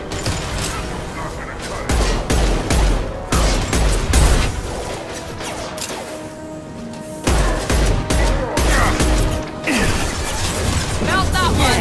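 Impact shot gunfire in the video game Mass Effect 2, loud bursts of weapon fire and mechanical clatter in several stretches with brief pauses between them.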